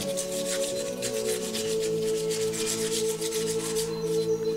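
Steady rhythmic rubbing and scraping of wet sandpaper against a scaly flower pot, close up, over a constant low hum.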